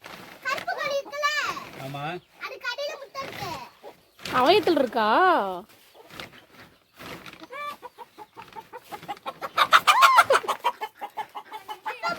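A hen in a shed clucks and squawks in loud, agitated bursts, with a cluck or two from a nest holding eggs, while children and adults talk and shout excitedly throughout.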